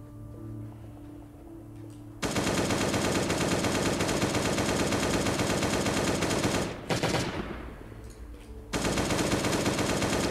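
Automatic rifle fire from an AK assault rifle in the survival video game Last Day on Earth, loud sustained bursts that cut out briefly twice before resuming.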